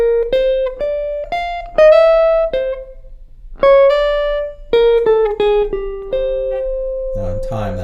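A guitar plays a chromatic single-note line from a jazz tune, with clean, ringing notes plucked one at a time at a moderate pace, close and clear, ending with a brief noisy scrape.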